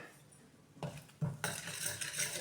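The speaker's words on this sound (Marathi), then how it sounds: "मसाला थोडासा तेलावर परतून घ्यायचा" Masala and a little turmeric sautéed in oil for a quick Maharashtrian pavta curry: metal spoon taps and scrapes against the pot, then a sudden rise into a continuous sizzle, close and fairly loud.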